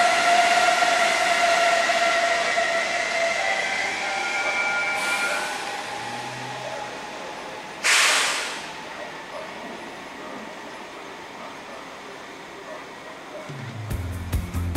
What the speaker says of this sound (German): Sogar eine Doppeltraktion ICE 3 Neo.